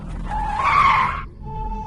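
A car's tyres skid and squeal for about a second over a low rumbling engine, loud and close, then cut to a quieter fading tone.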